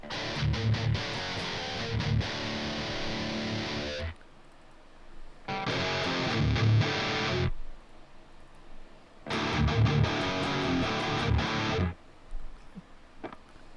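Electric guitar run through the STL Tonehub amp plugin with a driven, distorted tone, played in three loud sustained bursts separated by short pauses, with no talking.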